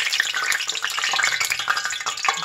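Hot frying grease crackles and sizzles in a pan on a stovetop, a steady dense hiss with fine popping throughout, close and fairly loud with no talking.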